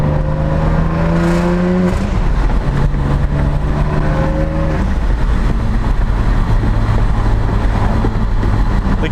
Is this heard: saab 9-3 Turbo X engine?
yes